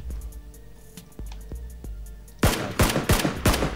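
Bursts of PUBG gunfire, a few isolated sharp shots at first, then a loud rapid cluster of repeated shots in the final seconds.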